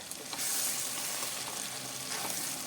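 Onion paste fries in extra oil for onion thokku while being stirred, giving a loud, steady close-up sizzle with soft scraping movement throughout.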